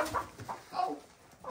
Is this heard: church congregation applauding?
no